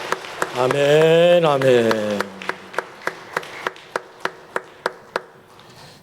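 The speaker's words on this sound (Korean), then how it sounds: "우리 하나님께 영광의 박수 올립니다." A Korean church congregation at a Sunday daytime worship service claps in praise to God. A sung amen comes first, then about a dozen steady, evenly spaced claps ring out in unison, close and crisp.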